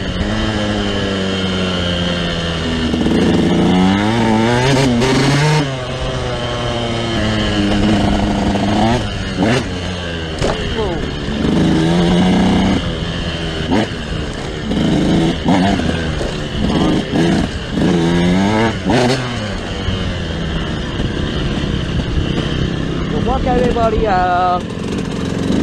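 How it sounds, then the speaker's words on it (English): KTM 125 motorcycle engine running after an idle adjustment, a loud close two-stroke buzz with repeated revs rising and falling over about 25 seconds, with someone talking over it. "I just adjust the idling on my bike."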